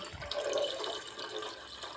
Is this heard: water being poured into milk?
yes